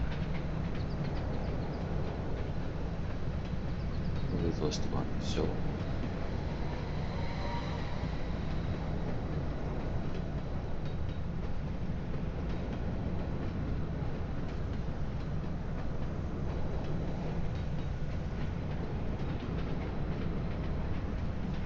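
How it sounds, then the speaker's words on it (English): Steam train running in the railway management game Railway Empire 2, a steady rumbling rail noise that continues throughout, with a brief higher whistle-like accent early on and a short remark spoken over it. "Steam train."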